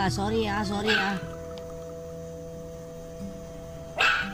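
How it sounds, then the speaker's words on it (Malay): A dog barks and yips close by at the start, then falls quiet under a steady hum before a short burst of noise near the end. "masih lagi berbuat bising anjing ini maksudkan"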